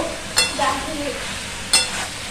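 Jackfruit curry sautés in a pan with a moderate sizzle, interrupted by two sharp scraping strokes of a spatula and a softer stirring rub between them.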